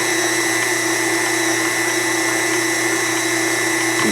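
A food grinder or blender runs steadily and loudly, chopping beef liver with onions in a home kitchen, a continuous motor whine with no pauses and no talking.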